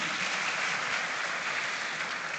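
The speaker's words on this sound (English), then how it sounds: "Please, another round of applause for him." An audience at the KIC School Farm Awards grand final applauds Mr. Benjamin Jankesi, a soft, even wash of many hands clapping that stays steady and fairly distant throughout.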